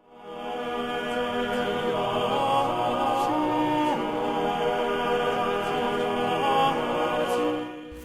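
A 36-part Baroque canon sung by many voices at once, each on a different line, forming a dense, sustained choral texture that swells in and holds steady, loud and continuous throughout with no talking.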